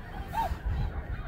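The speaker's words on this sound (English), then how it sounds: "Oh, here comes two swans." A single short honking call from one of two swans, heard close and brief against low outdoor rumble.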